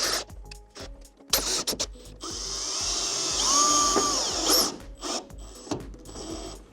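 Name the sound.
power screwdriver driving screws into standing-seam metal roof panels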